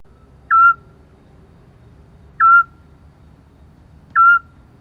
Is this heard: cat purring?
no